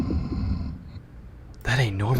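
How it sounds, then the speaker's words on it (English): A sick character in Quarantine Zone: The Last Check breathes heavily and unevenly in low, rasping pulses for over a second, then a voice speaks over it. "Listen to his breathing."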